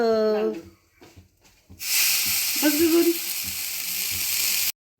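Semolina roasting in a pan for sheera sends up a steady, loud hiss that begins after a short quiet stretch of faint voice, with a brief tonal scrape partway through, then stops abruptly.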